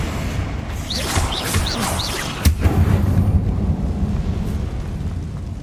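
A Confringo fire spell from Hogwarts Legacy bursts into a sharp, loud explosive blast with a crackling boom, set against a dense rumbling game soundscape with brief whooshing spell effects before it.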